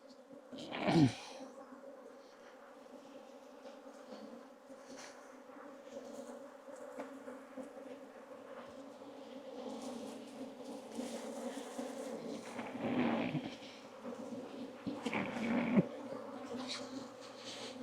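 An angry swarm of bees stirred up during mowing, a steady, dense buzzing drone that holds throughout, with a few louder, close passes and faint rustling.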